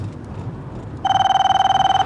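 Mobile phone ringing with a bright electronic ringtone that starts suddenly halfway through and repeats in a fast, steady pulsing pattern, loud and close over a low background hum.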